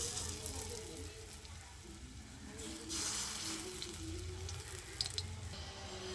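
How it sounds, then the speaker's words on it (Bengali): Banana blossom peel fritters slide one by one into a wok of hot white oil, giving a steady, close sizzle and bubbling hiss with a few brief spikes, no talking over it. "বড়াগুলো আমি ছেড়ে দিচ্ছি আস্তে আস্তে।"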